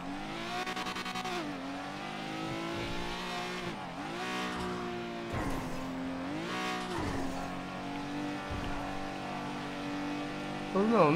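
A Honda Civic drift car revs in a driving game, its engine rising and falling in several long, loud sweeps with brief tire squeals and a final sharp rev, under ongoing talk.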